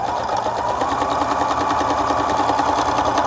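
A sewing machine runs steadily while stitching tweed fabric, giving a continuous close whirring drone with a fast even mechanical patter throughout and no talk over it.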